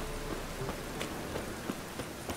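Rain falls in The Witcher 3 as a soft, continuous patter with scattered distinct drop hits on surfaces, steady and faint throughout with no voices.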